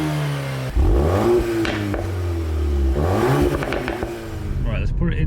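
A 2025 Audi S3 engine revs hard through rising and falling pitch sweeps, loud and close, with crackling overrun bursts from the exhaust between revs.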